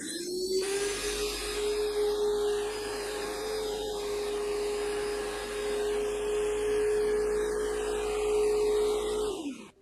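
A Graco Magnum X5 airless paint sprayer runs with a constant motor whine and a steady, loud hum that holds for nearly ten seconds before cutting off.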